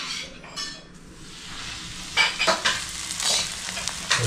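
Pomfret coated in rice flour and semolina frying in a pan, a sizzle that rises after a faint start, with a few stirring and clinking sounds, close, no voices.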